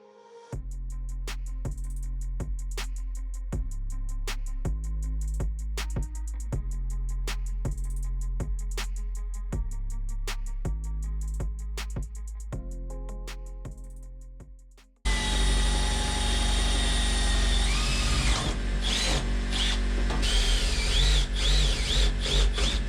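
Metal being cut to carve a notch that fits a pedal on a LUV pickup build: a loud, continuous harsh grinding roar that starts abruptly after a stretch of rhythmic background music and runs steadily to the end.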